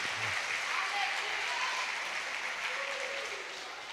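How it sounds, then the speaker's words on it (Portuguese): Church congregation applauding, steady broad clapping from a crowd heard at moderate distance, sustained evenly for a few seconds with faint voices underneath. "pode aplaudir."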